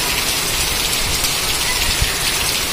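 Steady rain falling outdoors near a canteen, a dense, even hiss of drops on surfaces, close and continuous with no talk.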